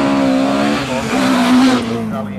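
Two Ford Escort rally cars run together on a track at a live rally stage, their engines droning loudly and continuously with pitch shifts as they rev, accompanied by what sounds like commentary over the top.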